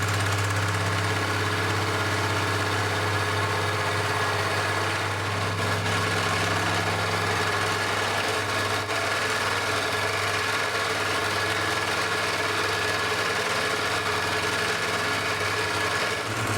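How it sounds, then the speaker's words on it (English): A milling machine faces a casting with an insert cutter, its motor humming steadily with a constant low drone and a faint grinding texture throughout, no voices. "I'll start by machining the widest part of the casting to produce a datum"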